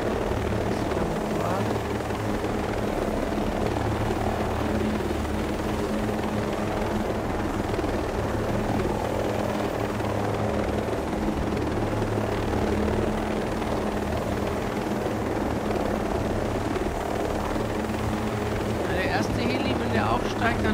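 A helicopter in the video game Ghost Recon Breakpoint thrums continuously with a loud, steady rotor drone from start to finish, while a player talks over the engine noise.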